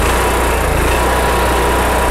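A small RV generator with a freshly cleaned carburetor runs steadily and loudly throughout, a constant engine drone with no pauses or talk.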